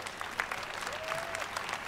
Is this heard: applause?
yes